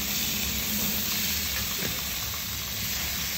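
Mackerel fillet frying in a hot pan, a steady close hiss and sizzle holding at an even level throughout, with no voices over it.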